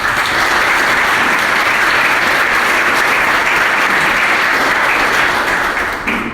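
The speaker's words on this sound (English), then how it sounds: "Can I get a round of applause for our first speaker?" Loud, dense applause from an audience welcoming a speaker at a business talk, a thick steady roar of clapping that holds strong and eases slightly at the very end.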